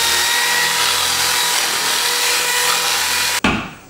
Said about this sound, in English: I like to use a drill and a drywall mixer.